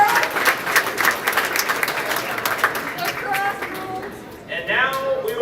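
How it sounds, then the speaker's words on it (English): A crowd applauds senior inductees at the 2023 Griz Choice Awards ceremony with dense, sustained clapping. It thins briefly near the end as a voice begins to speak. "Give a round of applause for your senior inductees of 2023."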